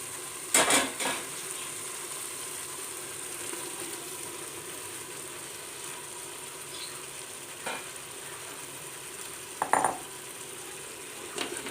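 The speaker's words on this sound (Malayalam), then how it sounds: "മെല്ലെ ഒന്ന് ഇളക്കി കൊടുക്കണം തൂണ ഓൾറെഡി വെന്തതാണ് പതുക്കെ പൊടിഞ്ഞു പോകാതെ പതുക്കെ ഒന്ന് മിക്സ് ചെയ്ത് കൊടുക്കാം" Tuna gently stirred into a yogurt mixture for tuna biryani, a soft steady scraping and mixing with a few louder clinks of a utensil against the bowl, close by with no talking.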